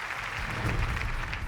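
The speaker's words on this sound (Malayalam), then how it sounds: "നല്ല ക്ലാപ്പ് പ്ലീസ്" Audience applause on a Malayalam TV game show, a steady wash of clapping that fills the whole short moment at moderate loudness with no breaks.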